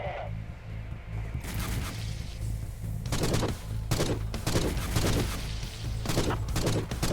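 An energy ammo weapon firing in the Forgive Me Father shooter game, a series of loud, punchy bursts in irregular clusters over a low droning backdrop, with a voice briefly talking.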